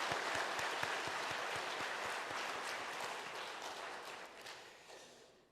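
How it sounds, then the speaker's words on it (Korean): A church congregation applauds seniors over seventy during a Korean worship service, a dense, steady wash of many hands clapping that fades slightly near the end. "우리 박수 한번 보내드리십시다."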